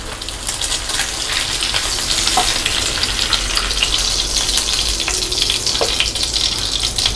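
Vanjaram (seer fish) fillets frying in a pan over low flame, a steady dense sizzle with crackling spatters running continuously throughout, close and fairly loud, with no talking.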